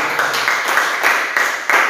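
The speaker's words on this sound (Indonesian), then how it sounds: "Beri tepuk tangan dulu untuk Dorci." Classroom of students clapping for a classmate after an answer, a brief ragged burst of hand claps with uneven peaks, fairly close and moderately loud, no talking over it.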